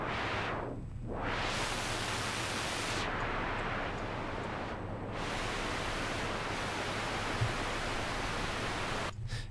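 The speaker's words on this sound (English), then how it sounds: "Okay, so this is the white noise." White noise from a Roland JP-8080 synthesizer hisses steadily, its tone sweeping and filtering in a few brief dips before cutting off near the end.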